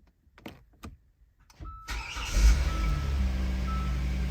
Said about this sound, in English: start the vehicle as normal, except we're going to use the top of the key fob to press the stop start button